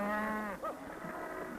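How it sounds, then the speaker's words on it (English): Cattle at a busy livestock stockyard where thousands of head are bought and sold, one close, loud bawl with a clear harmonic tone, followed by fainter low calls and yard noise. "Thousands of head of cattle are bought and sold in these yards every day."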